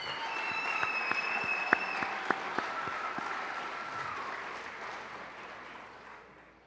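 Applause from the audience at an awards celebration for a group being honored, moderate clapping with a few loud distinct claps and a thin whistle-like tone, fading out gradually toward the end.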